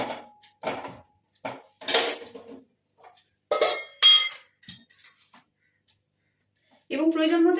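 Pieces of cut sweet potato are dropped into a pressure cooker, giving a run of separate clunks and metallic clinks with quiet gaps between them; a voice speaks briefly at the end.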